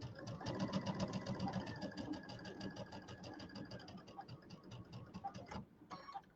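A sewing machine runs in steady rapid bursts while piecing the last center seam of a Kimberbell Cutie quilted table topper, with its stitching rhythm close and continuous, slowing and stopping briefly near the end.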